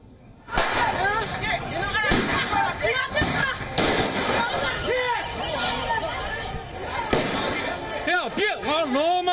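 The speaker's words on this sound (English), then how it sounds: "policemen in uniform pulled out their rifles. They fired in the air and arrested protesters as they tried to leave." Uniformed police fire rifles into the air at a street protest in Myanmar after the coup. Several sharp, loud cracks ring out at irregular intervals over crowd hubbub and shouting voices.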